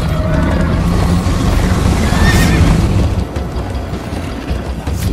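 A horse neighs loudly in the Minecraft Story Mode video game during a chase, a whinny over rumbling game sound effects and hoofbeats, with no talking.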